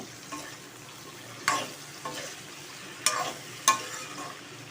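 Ingredients for a ripe jackfruit and liver dish are stirred in a frying pan. Several distinct spoon scrapes and clinks come at irregular intervals over a quiet, steady sizzle.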